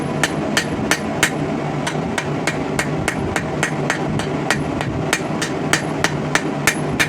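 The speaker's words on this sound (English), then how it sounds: "So forging down the welds here is going to give us the appearance of one solid piece of metal." A hammer strikes hot rebar steel on an anvil, forging down the welds on a sword, with more than twenty sharp metallic blows at an even, brisk pace, loud and close, with no talking.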